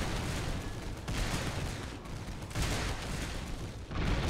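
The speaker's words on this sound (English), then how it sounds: "Our artillery bombardment is probably being too effective." Artillery bombardment in the Gettysburg: The Tide Turns battle game, a dense continuous roar of massed cannon and rifle fire rumbling in overlapping waves, loud and sustained.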